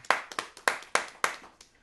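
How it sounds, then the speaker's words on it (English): Scattered claps from a small, enthusiastic studio audience at a live music showcase, a handful of sharp, separate hand strikes in an uneven rhythm, close and fairly loud. "that's the applause from our small but enthusiastic audience here in the Live Music Showcase studio"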